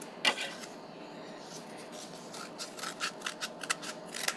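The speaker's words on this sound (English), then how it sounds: "we're just going to cut a line right down the middle of each tube" Scissors snip down the middle of a cardboard tube at a library story-time craft session, a quick series of light crisp cuts close by over a faint room hum.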